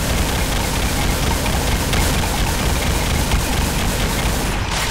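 Dense, relentless automatic gunfire from an upgraded weapon with a 40-round magazine in the Doom mod Project Brutality, a loud unbroken barrage of shots and booms filling the whole stretch without pause.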